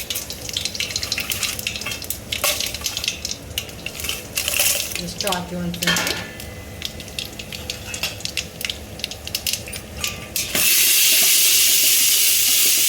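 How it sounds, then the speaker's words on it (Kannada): Spices crackle into hot oil for the tempering of a holige kattu saaru, a loud hissing sizzle erupting suddenly near the end after quieter clinks of pots and running water under a voice. "ಈಗ ಒಗ್ಗರಣೆಗೆ ಒಂದು ಸ್ವಲ್ಪನ ಹಾಕ್ತಾಯಿದ್ದೀನಿ."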